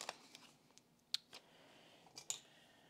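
Scissors snip through a paper planner sticker in a few faint, sharp cuts with small rustles in between, close up and quiet, no voices.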